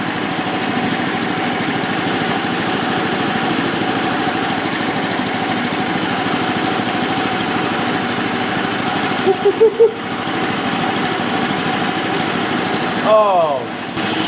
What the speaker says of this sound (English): now I'm gonna try a hydraulic dump bed